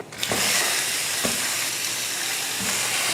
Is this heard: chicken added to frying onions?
yes